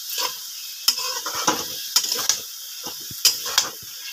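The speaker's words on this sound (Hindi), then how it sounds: "इसको हम अच्छे से चलाकर मिक्स कर लेंगे और फिर उसे ढक देंगे।" A spoon stirs masala paste into Bihari-style chicken curry in a pan, giving a series of irregular scraping, sloshing strokes with a faint sizzle underneath. It is close and clear, with no talking.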